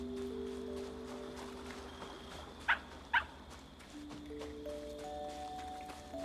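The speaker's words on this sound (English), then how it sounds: "What's the dog's name? I will name him Mustafar" A dog in a farming video game gives two quick, sharp barks close together, over a steady hum of game music and ambience.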